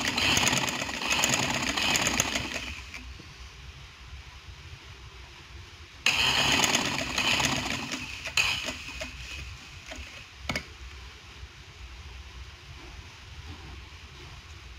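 A sewing machine stitching fine piping on a kurti runs in two steady, moderately loud bursts with quiet pauses and a few clicks between them.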